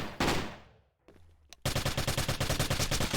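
Gunfire in a Call of Duty Warzone shootout: a loud shot decaying, a quiet gap with a faint crack, then sustained rapid automatic fire in close, even bursts to the end.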